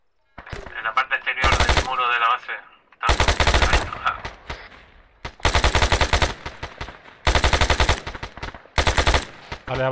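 Machine gun fire in the military video game ArmA 3, five loud sustained automatic bursts separated by short pauses, with brief voice chatter in the gaps between them.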